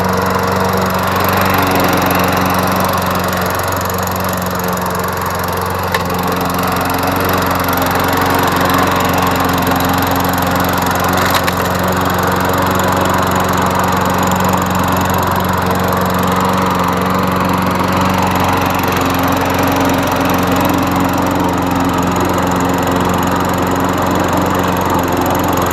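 A Toro GTS walk-behind lawn mower, recovered from the trash with a carburetor that had been clogged, runs its small engine at a steady buzzing idle that stays loud and close throughout with no talk.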